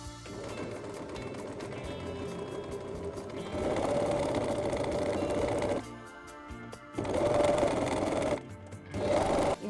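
A sewing machine stitches the waistband of linen pants, running in steady bursts of motor whir with short pauses between runs, loud and close with no talking.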